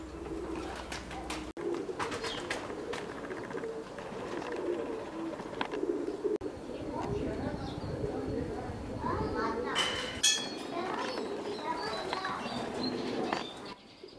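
Pigeons coo while other small birds chirp and tweet nearby, a busy layered outdoor bird chorus with occasional sharper calls, fading at the end.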